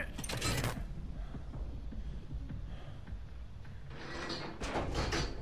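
An exit gate is being opened in the Dead by Daylight video game, a continuous mechanical creaking and grinding with clanking surges at the start and end of the clip.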